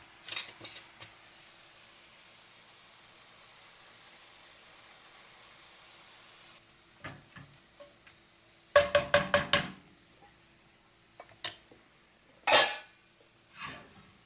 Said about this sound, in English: the beef is almost done cooking